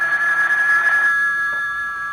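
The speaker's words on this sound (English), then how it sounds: "A couple of hours later, the phone rang." A telephone rings in an old radio drama, a steady electronic bell tone that sounds loud and near for about a second, then cuts off and leaves near silence with no voices.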